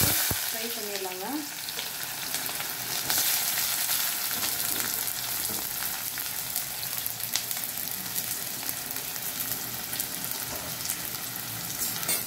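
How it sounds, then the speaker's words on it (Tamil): Sliced onions deep frying in oil, a dense, continuous sizzle close by that holds steady throughout, with a brief clatter near the start and no talk. "இப்போ நம்ம ஸ்லைஸ் பண்ணி வச்சிருக்கிற ஆனியன் எடுத்து டீப் ஃப்ரை பண்ணிரலாம்ங்க"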